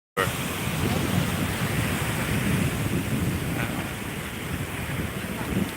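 Steady roaring surf at Kuta during a surfing competition, with gusty onshore wind buffeting the microphone, a constant broad rush from start to finish.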